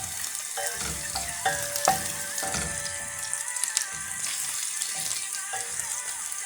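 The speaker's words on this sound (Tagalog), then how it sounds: "Ihuhulog na natin ang ating bawang. Ayan. Papulahin lang natin." Garlic sautés in a pan for pasta with tuna and green peas, a steady close sizzle with occasional scraping stir strokes and light clinks, no talking over it.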